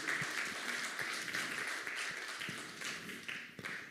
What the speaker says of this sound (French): est-ce qu'on peut juste applaudir Jésus pour tout ce qu'il fait à Genève